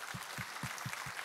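A church congregation claps together in a steady rhythm of evenly spaced beats, about four per second, under a bright continuous wash of hand noise, fairly faint and with no talk.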